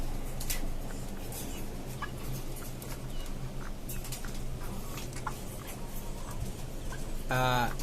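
Chickens on a fifth-floor rooftop poultry farm, young birds and a slightly larger rooster among them, cluck and murmur steadily in a dense, continuous flock chorus, with a brief sharper burst near the end.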